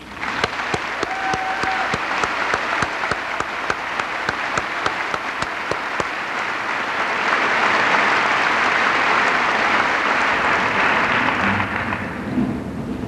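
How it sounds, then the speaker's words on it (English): Sustained audience applause at a 1999 high school graduation ceremony, a dense steady wash of many hands clapping that stays loud for about thirteen seconds and swells slightly toward the end, with no talk over it. "Please join me in applauding their accomplishments."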